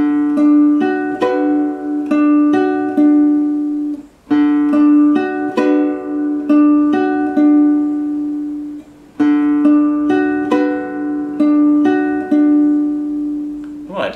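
Guitar plays a sustained, singing melodic phrase of tied notes from measure 10 of a song, three similar phrases with brief gaps between them, close and clear with no talking.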